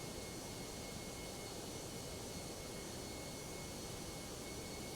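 A Toliss Airbus A319 coming in to land in the X-Plane 12 flight simulator: a steady, even roar of jet engine noise with a thin constant whine, continuous and unchanging, no voices.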